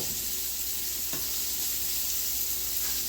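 Sherry hits a hot pan after browning chicken, producing a loud, steady, close sizzle that holds throughout, with one faint scrape partway through.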